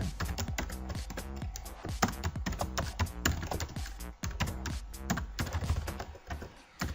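Rapid, steady typing on a computer keyboard during C++ programming setup, dense close key clatter with no talk over it.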